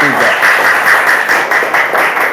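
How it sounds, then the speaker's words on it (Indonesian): Classroom audience applauding a student presentation group, a dense, steady wash of many hands clapping at close range for the whole stretch, with voices mixed in underneath. "Kasih aplaus untuk kelompok"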